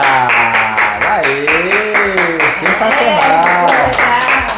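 A small group at a family's new house claps rapidly and steadily in close rhythm while voices talk and cheer loudly over the clapping.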